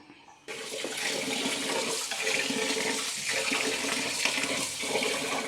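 Water splashes and swishes steadily up close, a continuous rushing wash of raw rice being stirred and rinsed by hand in a filled pot.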